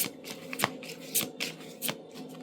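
Tarot cards riffled and drawn from a deck in a series of short, crisp papery flutters and snaps, close and fairly quiet, with no talking.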